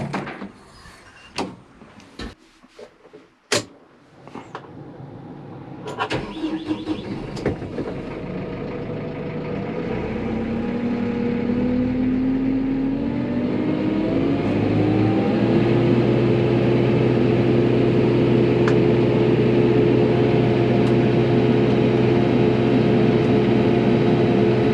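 After a few clunks and metallic knocks, a heavy 135-horsepower tractor engine on a hay farm starts and builds into a loud, steady rumble that keeps running close by.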